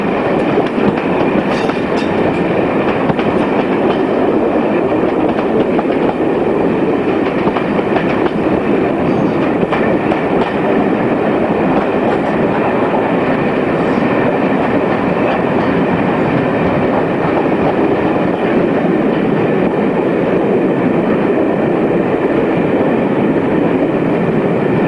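British Rail Class 50 diesel locomotive train arriving at Crewe off the Shrewsbury line, a steady loud rumble with rail clatter and squealing that continues throughout with no gaps.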